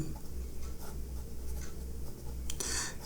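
Pen scratching across paper during a maths lesson on straight-line equations, a steady close scribble running throughout, with a brighter burst of strokes near the end.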